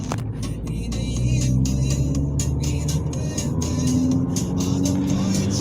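A Volkswagen Golf 4 car on the move, heard as a steady, continuous drone of engine and road noise that holds at an even level throughout without pauses.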